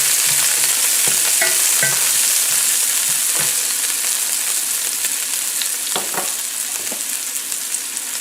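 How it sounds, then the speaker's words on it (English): Sweet green and red bell peppers sauté over low heat, a steady dense sizzle of frying with occasional clicks and scrapes of stirring, close and continuous, with no voices. "And we're going to saute it up. under low heat."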